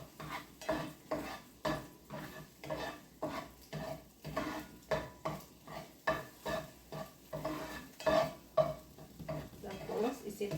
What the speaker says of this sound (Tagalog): scramble ko lang ang itlog